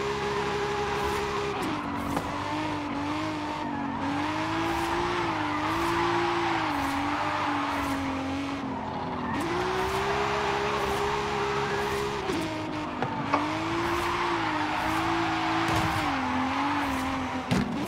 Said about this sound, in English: So I'll show you how I drift at the roundabout.